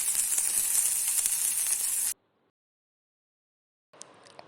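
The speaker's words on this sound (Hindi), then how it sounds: "जब ये तेल गर्म हो जाएगा तो हम इसमें अपने कबाब फ्राई करेंगे। इसे हल्की आंच पे फ्राई करेंगे।" Chapli kebabs fry in hot oil over low heat, giving a steady bright sizzle that stops abruptly, then a quieter sizzle with a few pops returns after a pause.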